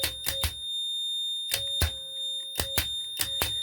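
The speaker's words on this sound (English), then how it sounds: "Now this one has a continuous beep" A power relay timer box on a boat sounds short beeps in spaced groups, each a sharp tone of two or three pulses separated by quiet gaps, close and clear with no talk.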